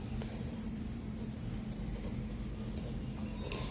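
Chalk or marker writing on a board during a math lesson, a soft steady scratching with short strokes over a constant low background hum, no speech.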